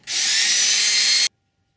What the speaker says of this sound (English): place an item underneath the hinge to help maintain its distance above the table while drilling